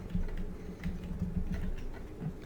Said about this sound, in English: just type a word like sponsor.